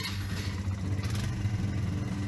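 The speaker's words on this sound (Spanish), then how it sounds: "Sacó su motocicleta y encendió el motor." A motorcycle engine running after being started, a steady mid-pitched rumble with slight revving fluctuations, close and continuous throughout.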